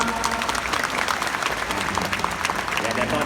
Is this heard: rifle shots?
no